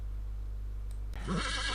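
A horse neighs in a short, rising whinny that begins partway through, heard over a steady low hum in a children's farm-animal story.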